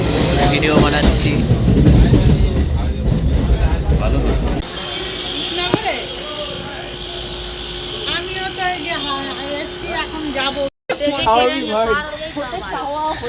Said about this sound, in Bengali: তো আমরা ট্রেনে করে যাচ্ছি